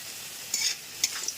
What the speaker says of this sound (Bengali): আলুটাও ভাজা ভাজা হয়ে গেছে সুন্দর করে